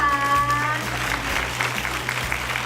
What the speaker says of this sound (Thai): ขอเสียงปรบมือให้กับทีมอาดีหกด้วยนะคะ